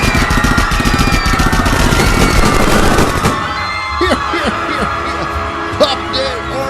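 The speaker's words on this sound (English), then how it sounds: "suddenly the peaceful atmosphere is interrupted by automatic gunfire" Automatic gunfire as a sound effect in an audio drama: a loud, rapid sustained burst of shots lasting several seconds, then fading into scattered echoes and ricochet-like whistles.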